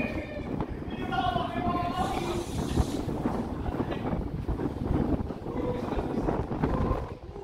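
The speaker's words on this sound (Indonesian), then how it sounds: "Jadi kalau keretanya belum sampai ke mulut keluar terowongan, ini angin itu nggak akan berhenti, angin ini." Wind rushes through a railway tunnel near Sasak Saat in Bandung as a constant heavy roar, buffeting the microphone, with people talking over it.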